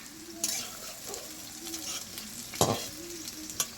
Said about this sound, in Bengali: এদিকে কুমড়োটাও ভাজা হয়ে গেছে